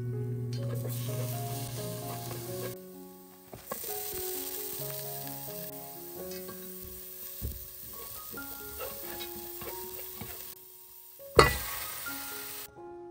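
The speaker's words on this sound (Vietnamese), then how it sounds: "Cho tỏi băm vào đây." Minced garlic sizzles and crackles in hot coconut oil in a pan, a continuous close frying hiss with occasional clinks of a utensil stirring, and a brief louder knock near the end.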